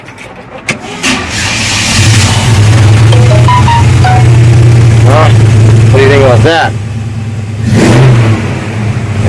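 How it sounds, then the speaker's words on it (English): An old pickup truck engine cranks, catches, and settles into a loud rumbling idle, then revs up sharply a couple of times while someone speaks briefly. "Let me turn this on for you so you can hear the engine."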